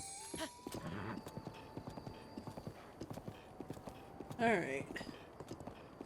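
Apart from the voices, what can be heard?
horse hooves clip-clopping in Breath of the Wild video game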